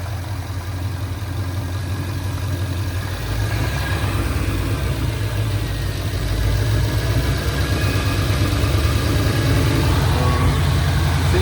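A car engine idles steadily, its rough low rumble mixed with a hissing, puffing leak from a faulty exhaust manifold, growing slightly louder partway through, close and continuous with no talk.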